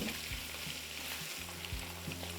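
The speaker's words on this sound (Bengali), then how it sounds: "তেলটা যখনই দেখবেন একদম ভালোভাবে গরম হয়ে গেছে তখন এখানে দিয়ে দিন 2 চা চামচ গোটা জিরে, তারই সাথে 5-6টা শুকনো লঙ্কা, 3 চা চামচ রসুন" Whole cumin seeds, dried chillies and garlic sizzle in hot oil for dal fry, a faint steady hiss with low tonal hum and light stirring underneath.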